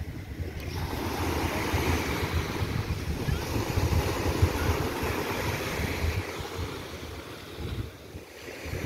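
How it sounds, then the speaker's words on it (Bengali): Sea waves break and wash onto the shore at Clearwater Beach, Florida, as a steady, fairly close roar of surf mixed with wind buffeting, with no voices. "দেখেন সমুদ্রের পানিটা আছড়ে এসে পড়তেছে এখানে একদম।"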